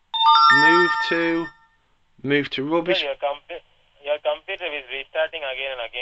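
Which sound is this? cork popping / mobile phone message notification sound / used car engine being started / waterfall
mobile phone message notification sound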